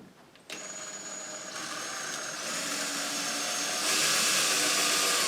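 Power drill boring a small pilot hole for mounting a bypass sliding closet door, spinning up with a click and then a steady high whine that rises and grows louder as the bit works in, close and without talk.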